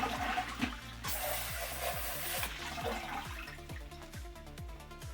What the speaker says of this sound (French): Je rince tout de suite mon tonneau.